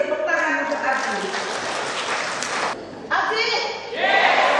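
An audience applauds for ABJI at a formal inauguration of association officials, with a dense burst of clapping that dips briefly near the middle and then swells again.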